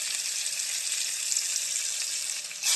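Potatoes go into hot fish oil and fry with a steady, bright hiss that stays even throughout, rising slightly louder near the end, with no voices.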